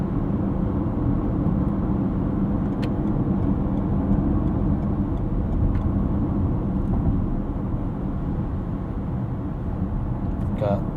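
Inside a moving 2021 Toyota Corolla Hybrid, a steady low road rumble and engine drone fill the cabin, even and unbroken, with muffled voices.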